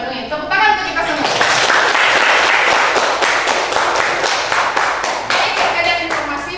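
Students in a classroom clap together in a sustained round of applause, loud and close, with a few trailing claps at the end and voices mixed into the clapping.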